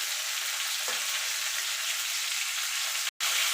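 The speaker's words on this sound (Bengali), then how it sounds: "ফুলকপিটা আমি ভালো করে ভাজা ভাজা করে নেব" Cauliflower pieces fry in hot oil left from seasoned potatoes, giving a loud, even, hissing sizzle that runs continuously with a brief dropout near the end.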